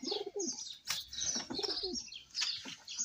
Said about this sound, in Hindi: जंगली कबूतर को देखिए दोस्तों